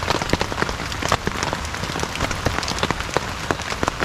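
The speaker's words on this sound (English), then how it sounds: "it is all pouring down the rain" Heavy rain pours down steadily on a tarp campsite in a creek valley, a dense patter of drops hitting a surface up close with no other sounds.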